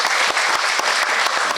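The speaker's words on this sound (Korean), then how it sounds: "박수 한번 부탁드립니다" A seminar audience breaks into brief, dense applause, a continuous burst of many hands clapping at close range.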